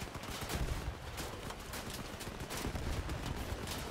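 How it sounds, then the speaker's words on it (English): Rapid enemy gunfire from a video game shooting at player-built turrets, a dense crackling fusillade of bursts that stays loud and fairly steady throughout with no talking. "They shoot my turrets so quick."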